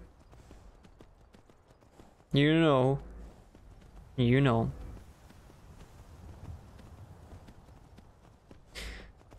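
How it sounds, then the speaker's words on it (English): Two loud horse whinnies ring out in the Skyrim video game, with a fainter snort near the end and soft clip-clop hoofbeats under them, while someone speaks briefly. "This poor horse must be shattered."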